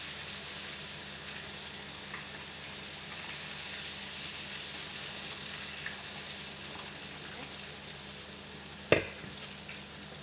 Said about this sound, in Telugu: చికెన్ అయితే ఫ్రై చేసుకోవచ్చు